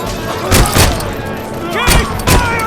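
Gunfire in RoboCop: Rogue City: bursts of heavy shots and thuds in two quick pairs, loud and close, over a busy combat background with shouted voices.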